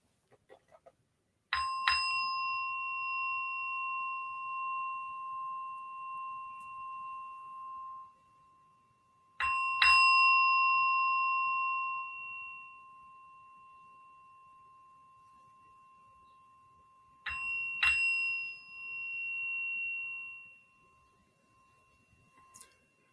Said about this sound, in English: let's take a deep breath together as I ring in the sacred bell